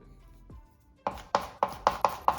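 A kitchen knife chops scallions on a board after a short scrape, with six crisp, evenly spaced chops heard close and clear.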